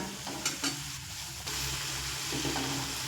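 Onion, garlic, ginger and ground spices sauté in a pan over moderate heat with a soft, steady sizzle and a few light stirring clinks, fairly quiet, with no speech.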